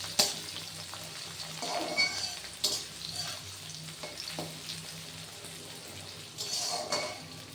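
Halved garlic cloves and two medium onions fry in a pan for a vegetable tarka, a soft, continuous sizzle broken by occasional stirring scrapes and clinks of a utensil against the pan.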